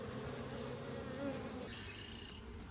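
Honey bees swarm around an opened beehive while frames are worked, a steady, close, fairly quiet buzzing drone that holds throughout with no talking.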